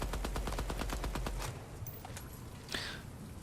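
Rapid automatic gunfire from a weapon being recoil-tested in the shooter game Midnight Society, a loud dense burst of evenly spaced shots lasting about a second and a half, then quieter scattered game sounds.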